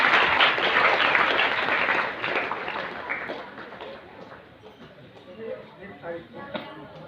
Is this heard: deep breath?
no